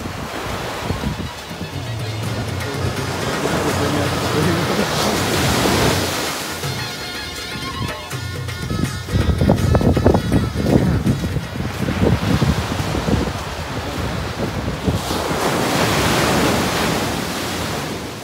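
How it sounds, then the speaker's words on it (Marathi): Surf on a South Goa beach rolls in as loud, sustained wave wash, with surges that swell and fade every few seconds over constant wind-blown hiss close to the microphone and no voices. "तिकडे खूप लाटा होत्या."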